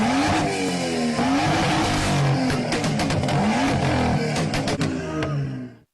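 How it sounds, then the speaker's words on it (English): A BMW car revs hard and blasts its exhaust, a loud continuous engine roar with rising and falling pitch and sharp bursts near the end before cutting off. "He just blew the exhaust and basically knocked him down with it with his beamer."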